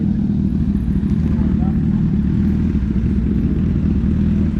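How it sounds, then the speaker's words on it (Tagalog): Big motorcycles arrive at an outdoor spot with views of windmills, their engines rumbling steadily and close by, a continuous throbbing drone with some clatter throughout. "Big bike."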